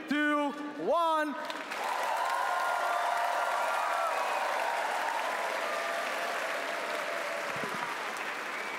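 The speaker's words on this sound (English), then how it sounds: "Let's give them a round of applause in 3, 2, 1." A crowd at a robotics competition event applauds the volunteers, sustained dense clapping rising after a brief spoken countdown and holding steady to the end.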